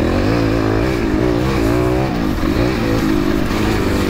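An Aprilia 450 MXV twin-cylinder off-road motorcycle engine runs loud and close, a dense steady drone with slight pitch wavering as the throttle shifts.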